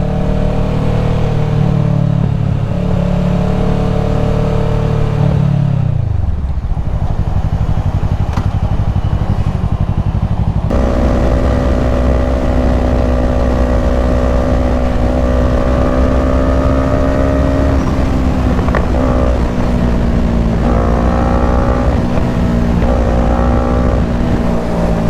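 A Kawasaki Ninja 650 motorcycle engine drones loud and close on the street during a homecoming ride, its pitch dipping and climbing as the throttle rolls off and back on, staying continuous throughout.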